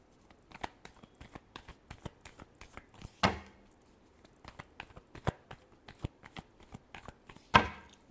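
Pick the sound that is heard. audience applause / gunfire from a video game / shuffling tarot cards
shuffling tarot cards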